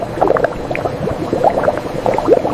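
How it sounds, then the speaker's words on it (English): Cane sugar syrup boiling vigorously up close in sugar factory vessels, a steady mass of bubbling pops and gurgles with no pauses. "Inside these vessels, water is slowly removed through controlled boiling."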